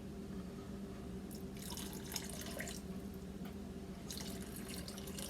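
Crown Royal whisky is poured from the bottle into elk chili in a cast iron Dutch oven outdoors, giving two short soft trickling bursts of liquid over a faint steady background hum, with no talking.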